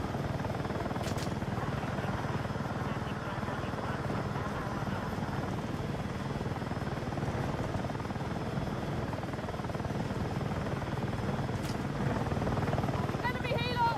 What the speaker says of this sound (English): Enemy helo!